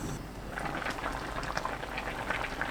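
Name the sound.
kimchi fish cake stew boiling in pot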